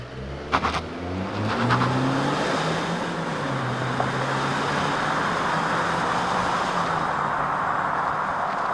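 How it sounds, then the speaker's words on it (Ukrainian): A Mazda CX-9 with a powerful engine accelerates while driving, a steady rising engine drone with road and tyre noise heard from inside, loud and continuous. "Потужний двигун."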